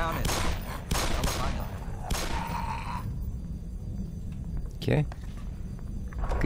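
Gunfire in Black Mesa, with rapid bursts of shots in quick succession, loud and close, followed by scattered hits and movement sounds, while voices talk over the action.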